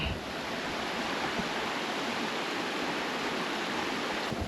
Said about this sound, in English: Can you hear that like water rushing?